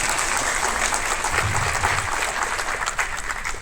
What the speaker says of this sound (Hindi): उनका एक बार सब लोगों से अनुरोध है जोरदार तालियों से।